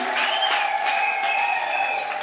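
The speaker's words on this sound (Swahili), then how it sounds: "Hebu tumpe Bwana wetu makofi mazuri." A church congregation claps together during a worship service, a steady, dense round of applause that fills the room and runs throughout without a break.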